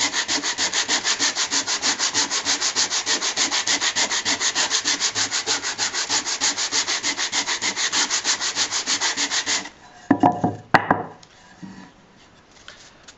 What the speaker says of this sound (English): when you rub the timber you're trying to sand, the paper won't move because it grips itself